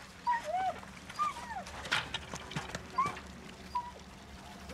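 A dog whimpers and whines in a few faint, high, brief cries spread through the clip, over low background noise.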